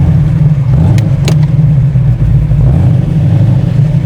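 A 1972 De Tomaso Pantera's engine rumbles loud and close while driving, with a deep, continuous low growl and slight rises in revs and a couple of brief higher clicks, no talking.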